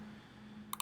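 A computer mouse gives two quick, faint clicks in close succession at the very end, after a moment of quiet background hum.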